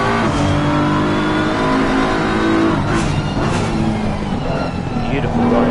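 A BMW race car in a racing video game accelerates hard with a loud, steady engine roar, rising in pitch as it pulls out of a corner, while a commentator talks over it.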